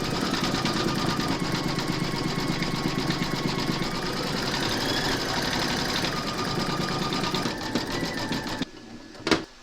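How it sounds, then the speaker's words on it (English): An embroidery machine stitches the veins and satin edge of a maple leaf applique held in a hoop, a close, continuous fast mechanical chatter that stops abruptly near the end, followed by a brief clunk. "pop your hoop into your machine and stitch round number 4, and that's going to do the veins and the satin stitching around the edge"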